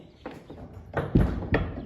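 Cattle hooves thud and clatter on the floor of a handling facility as the animals leave the head catch for the cow yard, with three or four heavy, close steps in quick succession.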